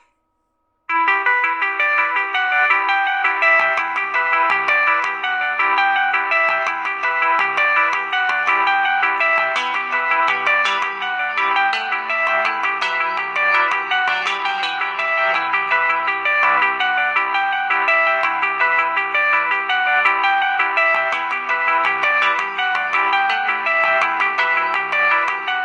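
Nokia X6-00 mobile phone ringtone playing loud and steady for about 25 seconds, a bright synthesized melody with a low bass line beneath, starting after a short silence and continuing without any talk.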